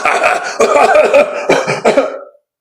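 A person coughs repeatedly in harsh, close bursts, a long fit followed by two shorter coughs before it stops.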